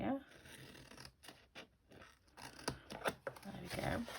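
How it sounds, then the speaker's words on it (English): Scissors cutting card stock for a fold-top gift bag, a few close snips and slicing strokes under a person talking. "I'm going to cut this away. Cut here, and I'm just going to cut down here."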